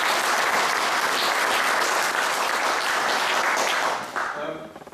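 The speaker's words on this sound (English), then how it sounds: "I also have a small hand of applause for Peter Edwards as the chair." An audience at a history talk on the Vietnam War gives sustained applause for the panel chair, a dense, loud wash of clapping that fades out in the final second.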